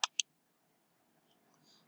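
Two sharp, close mouse clicks in quick succession while installing PUBG Lite on a PC, followed by near silence with faint background noise.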